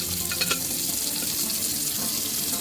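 Tap water runs steadily as a doll's curly hair is rinsed under the faucet, making a continuous hissing splash with a few small drips and gurgles near the start.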